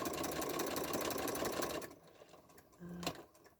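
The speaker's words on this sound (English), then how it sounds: "I left my walking foot on because I'm sewing through a lot of layers" A sewing machine fitted with a walking foot runs steadily, stitching through thick layers of fabric for a quilt binding, then stops abruptly, leaving quiet handling noises and a brief low hum and click.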